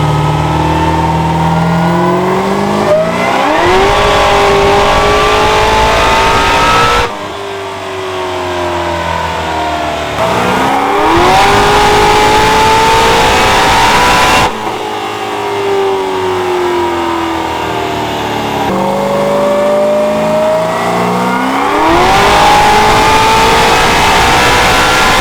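On a dyno, the engine of an eight-second drag race streetcar built from a roller runs through three loud rev cycles. Each starts from a rough, low idle, climbs to a rising wail and then drops back.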